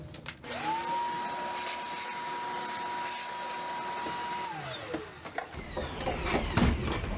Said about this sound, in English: Wonder if I should do the rest of this area while I've got the vacuum out.